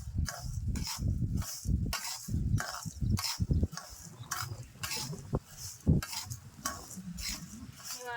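Salt and food stirred around a kadai pan with steady, rhythmic scraping strokes, close and fairly loud, with a faint sizzle beneath and no talking.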